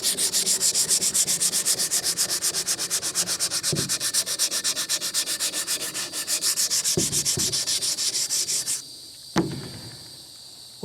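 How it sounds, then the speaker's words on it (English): Rapid rhythmic rasping of sandpaper rubbing a wooden rifle stock from a Marlin Model 60, steady and close for several seconds, then stopping with a couple of knocks. "we'll start sanding on the stock"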